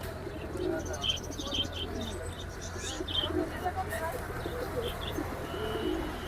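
Pigeons coo softly and repeatedly at a busy Hemayetpur pigeon market, with chirps and a steady crowd murmur in the background.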